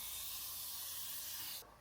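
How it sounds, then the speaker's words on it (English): Cooking spray hissing steadily from a can while making crispy cheesy hot dogs, one continuous close spray that stops abruptly near the end. "Can I spray this here?"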